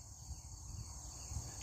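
Crickets chirping in a steady, high continuous trill, faint and unbroken, with a low rumble underneath.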